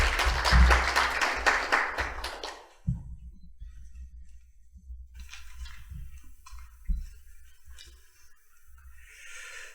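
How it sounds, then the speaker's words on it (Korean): Brisk, fairly close applause from an audience at a vision ceremony in Asan welcomes the city council chair for about three seconds, then stops, leaving a quiet room with a few soft thumps. "박수로 환영해 주십시오."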